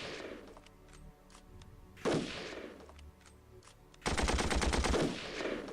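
Gunfire in the Armored Brigade war game, with scattered crackling shots, a heavier blast around the middle, and a loud rapid burst of automatic fire toward the end.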